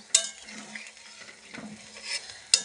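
A spoon stirs a simmering dish in a pan just after water has been added to the oil, with soft scraping over a low sizzle and two sharp utensil clinks at the start and end.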